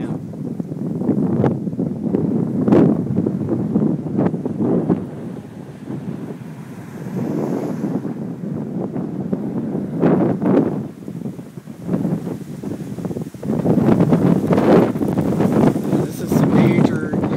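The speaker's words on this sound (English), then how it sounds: "you can probably hear the wind picking up like crazy" Strong gusty wind in tornado weather in Keller, Texas buffets the microphone with a loud, rumbling roar that surges and eases, with voices faintly mixed in.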